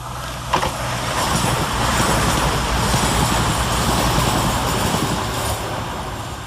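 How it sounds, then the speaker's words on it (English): A fast express diesel passenger train roars past close by at Woodhouse station, a steady loud rush of wheels and engine noise sustained throughout with no voices. "the final fast action to finish off is 220008"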